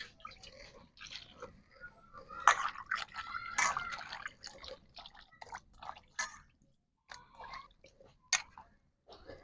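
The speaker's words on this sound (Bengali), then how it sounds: "আমি এখন জল দিয়ে দেবো" Water is poured into a cooking pot of lentils being cooked with potato, radish and pumpkin greens, making faint splashing and trickling close by, with a few short pauses and drips.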